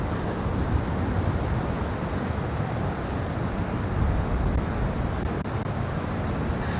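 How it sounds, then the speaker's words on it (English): Strong wind buffets the microphone on the seafront at Can Pastilla, Mallorca, a steady loud roar with gusts and possible surf underneath, and no voices. "you're loving the windy weather"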